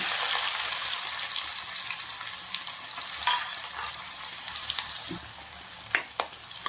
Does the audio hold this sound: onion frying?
yes